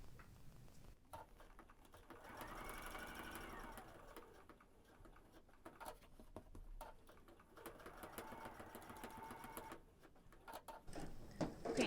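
Sewing machine running steadily as it stitches raw edge fabric appliqué, a close, continuous whirring hum in long bursts with brief pauses between passes.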